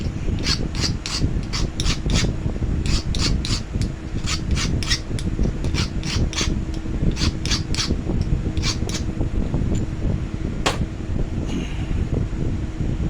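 A Dremel rotary tool sharpening the tip of a glass tile being knapped, giving a steady close rasping, rubbing grind with repeated short high scraping strokes throughout, no talking.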